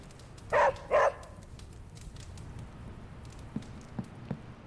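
Dog in the video game Marvel's Midnight Suns gives two quick, loud barks close together near the start, followed by faint soft ticks and light ambient noise.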